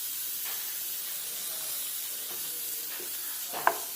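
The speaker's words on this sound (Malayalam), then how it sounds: "ഇഞ്ചിയും വെളുത്തുള്ളിയും ചതച്ചത് വെളിച്ചെണ്ണയിലേക്ക് ഇടുകയാണ്." Crushed ginger and garlic frying in hot coconut oil, a steady soft sizzle and hiss with faint stirring, and a small sharp clink near the end.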